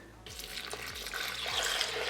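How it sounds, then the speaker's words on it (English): Water poured into a container during home cooking, a steady splashing stream that begins abruptly and grows fuller as it fills, close and alone. "So we'll pour in our water."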